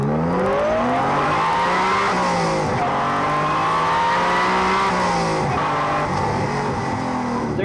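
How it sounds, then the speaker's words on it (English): Supercharged Honda NSX engine revving hard, loud and close, its high-pitched VTEC howl climbing and dipping through repeated gear changes for several seconds, with faint tire squeal and no talking. "Just listen to that engine."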